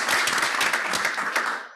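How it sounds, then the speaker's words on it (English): Community college instructors applaud loudly at a symposium panel. Dense, close clapping from a crowd fades out at the end. "the claps from my fellow community college instructors were particularly loud"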